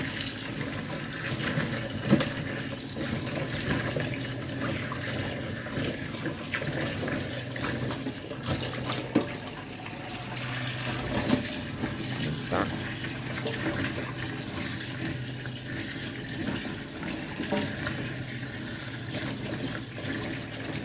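Tap water runs steadily into a kitchen sink for a long stretch as radishes are washed, a constant close rush with occasional light knocks of a container and no talking.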